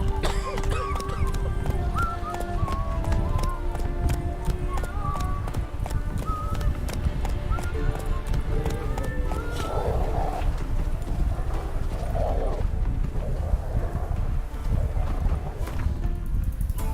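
Roach, the horse in The Witcher video game, gallops with a quick steady drumming of hooves heard close and loud throughout, with a brief neigh and talk drifting over the rhythm.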